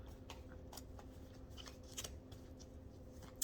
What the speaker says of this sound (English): I'm just going to shuffle these cards up a little bit